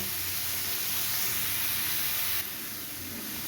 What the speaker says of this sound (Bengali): আমার ডাঁটা আলু ভালো করে কষানো হয়ে গেছে আমি এবার এর মধ্যে জল দিয়ে দিচ্ছি